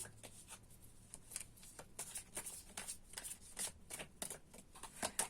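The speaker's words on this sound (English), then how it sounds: "So let's continue to shuffle." Tarot cards being shuffled in quick, crisp riffling bursts, close and steady, with no talking.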